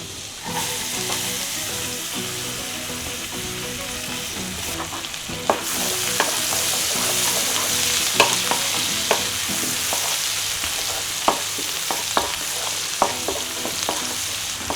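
Green chili, ginger and garlic sauté in butter for a creamy malai chicken, a continuous close sizzle with a louder hiss after a few seconds and regular sharp clinks and scrapes of a stirring spoon against the pan.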